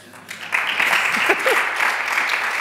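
Applause from a lecture audience at a science and humor talk swells after a brief quiet start and holds steady as a dense, moderately loud wash of clapping, with a faint voice briefly underneath.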